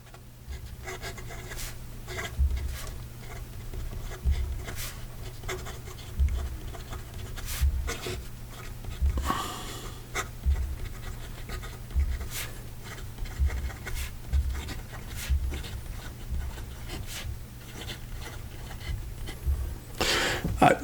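A Pilot Stargazer-Stella 90S fountain pen with a 14K nib writes on paper, giving soft close scratches and light taps in irregular bursts, with small pauses between strokes and no talking.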